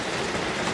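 Steady rain falling in rural Africa, a dense even hiss with no pauses or voices, close and moderately loud throughout.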